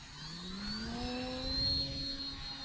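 An FT Freedom Fox V2 RC plane throttles up for takeoff, its electric motor whining with rising pitch that climbs steadily over a soft rumbling ground noise, fairly close and alone.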